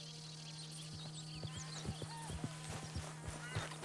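Horse hooves clip-clop at a steady walking rhythm in the Red Dead Redemption 2 video game, with a low steady hum beneath and faint ambient sounds around them.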